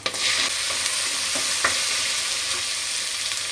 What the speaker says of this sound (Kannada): ಈರುಳ್ಳಿ ಫ್ರೈ ಆಗುವಾಗ